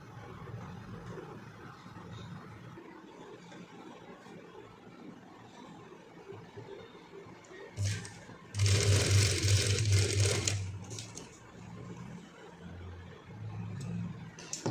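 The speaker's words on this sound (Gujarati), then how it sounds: "તો બંને બાજુ આપણે એ જ રીતે સિલાઈ કરી લેવાની છે." Sewing machine stitching the cuff of a sleeve, a steady mechanical whir running for about two seconds midway, louder than the quiet fabric handling and background noise around it.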